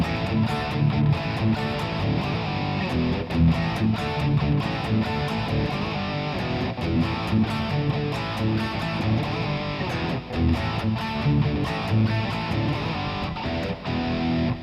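A chorus riff played on a distorted electric guitar: a continuous run of driving, moving power chords held loud and steady for the whole stretch, with no talking.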